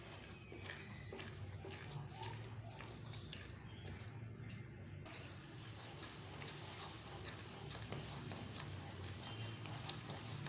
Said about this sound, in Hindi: इसमें मैंने 2 टेबलस्पून और घी डाला है और अब हम इसको अच्छी तरह से भूनेंगे।